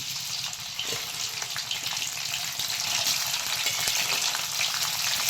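Chicken pieces fry in hot oil for a homemade chicken pickle, making a dense, steady sizzle that stays close and loud throughout with no voices.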